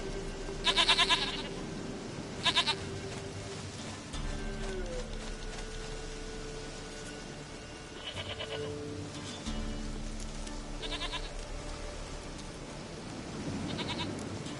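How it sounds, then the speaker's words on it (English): A goat bleats in several short, loud bursts, two close together early on and more spread through the rest, over a quiet low background hum. "Goat of mine, dearest, sweetest goat."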